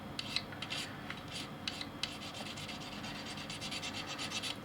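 Rasping hand sanding with 180-grit sandpaper, repeated back-and-forth strokes scratching steadily and faintly up close with a quick rhythmic pattern and no voices.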